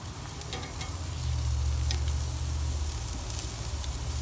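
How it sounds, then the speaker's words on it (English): Meat sizzling on a barbecue grill at night, a steady close crackling hiss with a low rumble swelling slightly partway through and no talk. "Alright, I got my meat on there. I'm just gonna let it grill."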